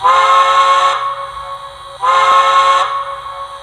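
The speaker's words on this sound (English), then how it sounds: "let's hear the whistle" A model steam locomotive whistle blows twice, each a sustained, chord-like toot about a second long, close and loud, separated by a short pause, from a Broadway Limited 2-8-2 with a stock DCC decoder.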